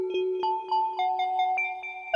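Mallet-like synth tones from a through-zero FM patch on a Brainsaw oscillator, a short sequence of bright struck notes over a sustained pitched drone, each with a quick attack and ringing decay, clean and alone.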